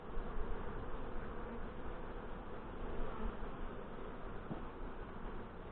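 Honey bees buzz around a backyard hive during an inspection in the bush after a robbing episode, a faint, continuous droning hum that stays steady throughout with no voices.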